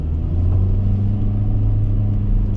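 A 2023 Kia Rio S hatchback with an IVT transmission pulls away under acceleration, its engine giving a loud, steady low rumble that holds close and even throughout with no talk over it.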